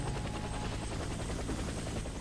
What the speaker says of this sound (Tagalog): Get to the helicopter for extraction.